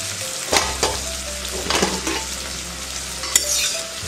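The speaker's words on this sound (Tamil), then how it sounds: "அந்த சூட்லேயே இந்த பெருங்காயம் பொரிஞ்சிரும்." Asafoetida sizzles in a pan of hot roasted spices for sambar, a steady close frying crackle with a low hum underneath and a few sharper stirring scrapes and pops.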